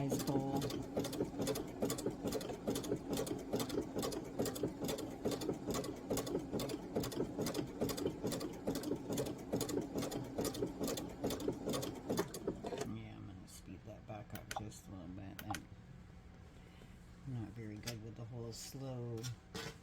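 A sewing machine stitching rope into a small basic bowl, running in a fast continuous mechanical patter for most of the time, then slowing into shorter, broken bursts with pauses.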